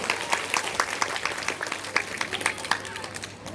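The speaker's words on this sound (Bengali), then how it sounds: "মানালির জন্য একটা জোরে হাততালি" An auditorium audience at Rabindra Sadan claps for Manali, a dense, sustained round of applause that fades slightly toward the end.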